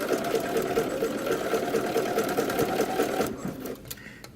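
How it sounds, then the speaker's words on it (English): Sewing machine stitching a pinned shirt facing with bias binding, a steady close running hum with rapid needle rhythm that slows and stops near the end. "I'm starting in my old stitching of the facing."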